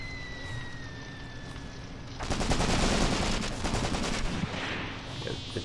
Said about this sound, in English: It's definitely incoming artillery.